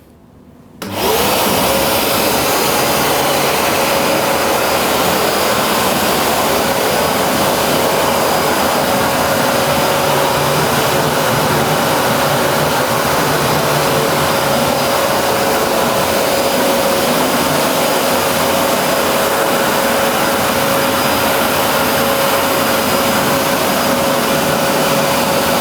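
A Karcher WD 3500P wet and dry vacuum cleaner in blower mode kicks on after a brief quiet moment, then roars loudly and steadily with a constant motor whine.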